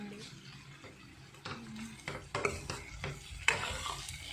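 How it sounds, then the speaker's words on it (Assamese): Potato pieces for Assamese koldil are stirred in a pan, giving a series of scraping, clattering strokes of a utensil against the metal over a soft sizzle, close up and moderately loud. "এতিয়া অলপ লৰাই দিলোঁ"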